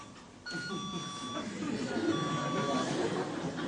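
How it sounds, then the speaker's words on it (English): An electronic beep sounds twice during a grammar lecture, each a steady, clear tone lasting well under a second, while a person keeps talking over it. "There's the beep."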